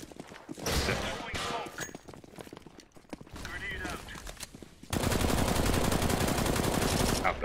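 Bursts of automatic and single-shot gunfire in a Counter-Strike match on the Mirage map, loud and close, with players' voices talking over parts of it and a dense sustained volley near the end.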